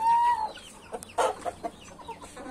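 Backyard hens cluck and call close by, opening with a drawn-out tonal note, then a loud burst and a scatter of short clucks that fade into softer ones.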